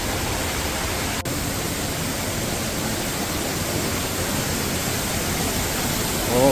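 An Oregon waterfall pours in a dense, steady roar of rushing water, near and unbroken, with a single sharp click early on and a brief rise in noise at the end.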